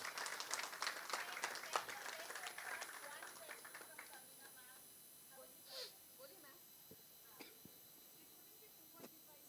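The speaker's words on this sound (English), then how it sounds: "Can we have a humongous round of applause" Applause from the audience at a Hindi movie trailer launch for Razakar, a burst of scattered clapping that thins out over several seconds, with a few isolated claps at the end, fairly faint and distant.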